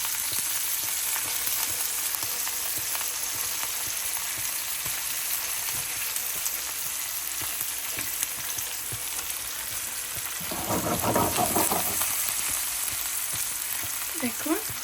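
Hilsa fish fries in a pan with a continuous bright sizzle and crackle, and a brief louder stirring burst near the end.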